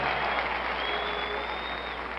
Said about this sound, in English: And now the audience stands and applauds Dave DeBusschere.